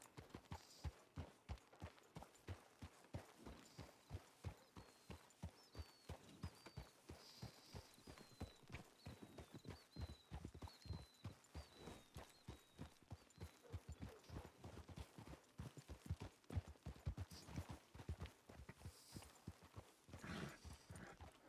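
Horse hooves clip-clop in a steady, brisk rhythm throughout in the Red Dead RedM game, close and fairly loud, with a faint tonal call weaving above and a brief louder burst near the end.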